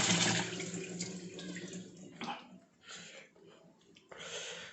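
Tap water runs into a kitchen sink while dishes are washed after cooking fish, coming as loud splashing gushes that stop and start in uneven bursts.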